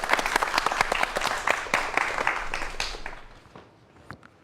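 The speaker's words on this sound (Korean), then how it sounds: "자, 박수 부탁드리겠습니다." An audience bursts into applause, a dense wash of many hands clapping together that stays strong for a few seconds and then fades out to a few scattered claps.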